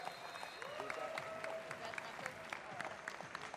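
Spectators at a military powerlifting competition applaud after a missed lift, a moderate, fairly distant crowd clapping with a faint tonal hum and murmur beneath.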